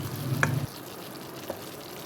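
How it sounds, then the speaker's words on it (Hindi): Flour cooking in desi ghee, a low frying sizzle with a stirring scrape that cuts off abruptly partway, leaving faint background hiss and one small tap. "इसमें मैं ऐड करूँगी आटा।"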